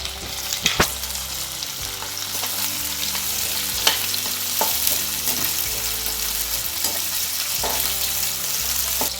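Beef chukka ingredients sauté in a hot pan with a continuous sizzle, and regular scraping stirs and light taps of the spoon on the pan mark an uneven rhythm. The sound is close and moderately loud, with no talking.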